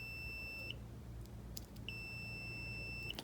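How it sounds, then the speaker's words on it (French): Two long, steady electronic multimeter continuity beeps while testing a spark plug, each lasting about a second, separated by a short pause against a quiet background hum. "Alors là, ça bip, donc c'est que j'ai une continuité"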